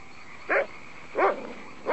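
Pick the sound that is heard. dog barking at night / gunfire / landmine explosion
dog barking at night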